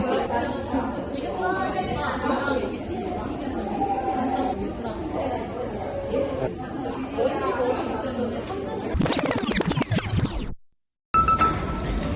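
A busy cafe full of overlapping chatter from many people, loud and constant, with clattering near the end before a brief cut to silence.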